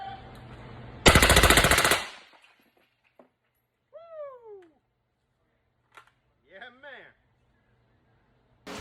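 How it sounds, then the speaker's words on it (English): Rare Breed FRT force reset trigger test firing: one loud, rapid burst of automatic-sounding shots lasting about a second, close by, followed by quiet outdoor ambience with a few short bird calls. "Rare breed FRT force reset trigger."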